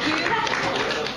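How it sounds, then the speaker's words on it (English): Audience applause at a debate event, a brief dense burst of many hands clapping at close range, mixed with some voices. "So give them a round of applause."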